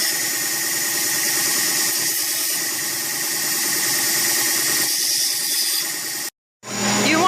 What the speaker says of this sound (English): making sure you're going with the grain of the sander